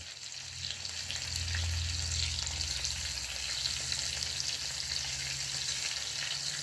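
Pieces of meat sizzling steadily in a hot frying pan, a loud continuous close crackle and hiss with no talk.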